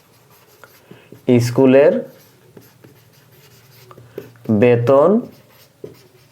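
A pen writes an accounting entry during a bookkeeping lesson, making faint light scratches and taps between and under a person speaking.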